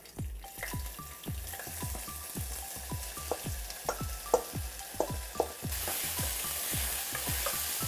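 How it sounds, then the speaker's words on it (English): Garlic and onions sizzle in hot oil with cumin, a steady crackling fry overlaid by many rhythmic scraping stirs of a utensil in the pan, close and fairly loud, with the sizzle turning brighter near the end. "Now aromatics go in, which is our garlic and onions."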